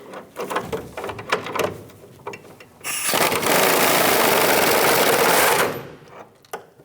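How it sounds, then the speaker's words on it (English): Ratchet with a 17mm socket working a bumper bracket bolt on a 1999-2006 Chevrolet Silverado 1500, with an 18mm wrench on the nut: close, rapid clicking bursts early on, then a loud sustained rasping run for several seconds before tapering off. "18mm wrench on the nut and a 17mm socket on the bolt."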